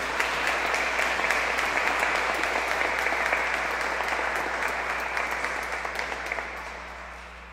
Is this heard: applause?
yes